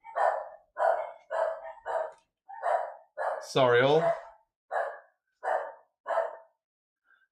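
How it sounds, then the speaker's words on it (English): A dog barks in a regular series of about ten sharp, close barks with short gaps, and a person's voice cuts in briefly partway through. "My dog is not happy."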